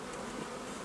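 Honeybees buzz in a dense, close swarm as a hive is being moved by a beekeeper, a brief continuous drone with no voices.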